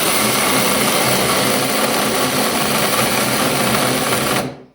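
A budget 48-volt battery-powered cordless saw whines at a loud, steady pitch for several seconds, then cuts off abruptly at the end.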